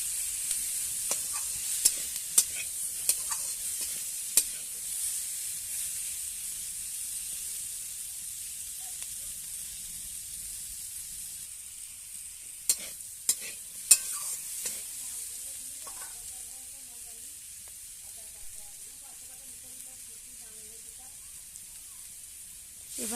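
Tomato and potato pieces frying in a pan, a soft continuous hiss broken by scattered sharp clicks of a utensil stirring and scraping, fairly quiet throughout.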